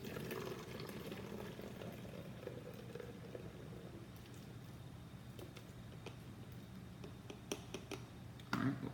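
Yeast solution poured carefully into hydrogen peroxide for a foaming reaction, a quiet steady liquid fizzing and trickling pour, close, ending with a few small clinks.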